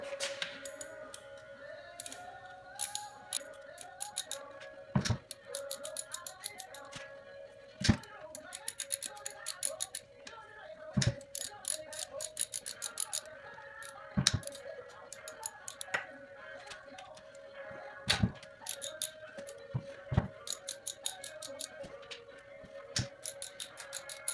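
A 1/2-inch drive socket ratchet loosens transmission bolts on a 1993 Ford F-150 with a 4.9L engine. Rapid close clicking comes in bursts, broken by sharp individual knocks every few seconds.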